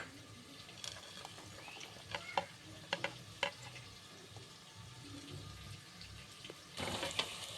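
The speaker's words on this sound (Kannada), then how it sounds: "ಈರುಳ್ಳಿ ಈ ತರ ಫ್ರೈ ಆಗಿರ್ಬೇಕು" Onions frying in a pan for chicken biryani, a faint continuous sizzle broken by sharp clinks and scrapes of stirring, with a louder burst of sizzling near the end.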